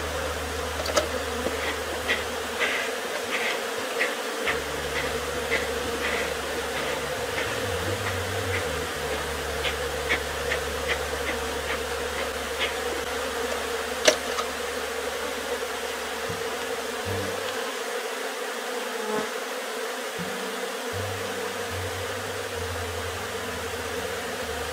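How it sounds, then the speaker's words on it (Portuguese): Honey bees swarm around an open beehive during a frame inspection, a dense, continuous buzz close to the microphone with individual bees droning past, while a low hum comes and goes underneath; no one speaks. "Tem cuidado para não matar a abelha."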